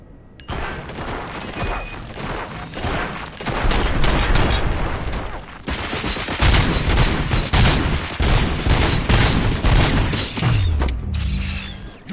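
Sustained heavy gunfire in the RoboCop video game, a loud, dense fusillade of rapid shots and booming impacts running almost the whole time, growing even denser partway through, with clanking mechanical sounds layered in.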